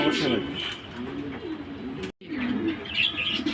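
High-quality fancy pigeons coo steadily at close range, with soft chirps and a brief wing flutter mixed in, broken by a short silent gap partway through.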